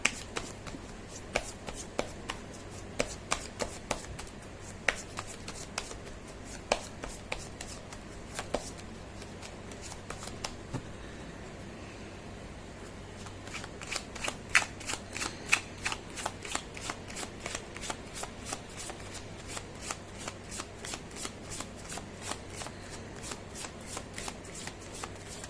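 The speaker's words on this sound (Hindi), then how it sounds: "मैं कर लेती हूँ कार्ड की शफलिंग।" Tarot cards being shuffled by hand in a steady series of crisp riffling bursts and soft taps, close and fairly loud, with a short quieter gap midway and no talk.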